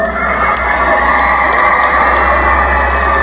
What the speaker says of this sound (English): Kids, give him a big round of applause.